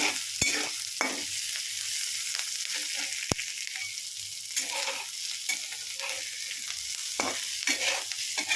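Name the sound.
frying onions, curry leaves, green chilies and tomato in a pan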